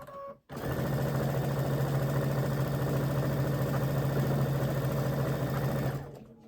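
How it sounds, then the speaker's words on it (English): A sewing machine runs a continuous quarter-inch seam on a Christmas quilt wall hanging, a steady mid-pitched motor hum with rapid needle chatter lasting about five seconds, starting and stopping abruptly. "we're going to come in here and sew a 1/4 inch"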